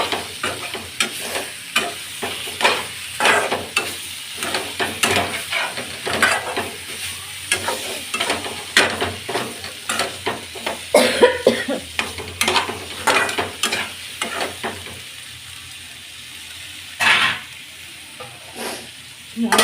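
Tempering sizzling in a frying pan while bitter gourd (kakarakaya) and potato fry are cooked, a steady crackling fry with repeated stirring scrapes at close range.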